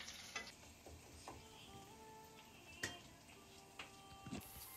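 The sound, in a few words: crushed garlic lightly frying in pan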